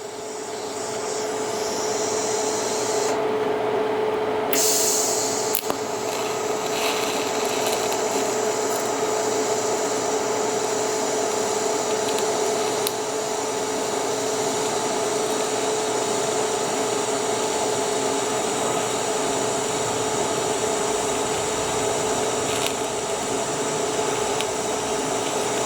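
TIG welding a fillet joint with filler rod and a tungsten electrode, producing a continuous steady buzzing hiss with a faint electrical whine that runs unbroken and close, with a brief sharper burst early on.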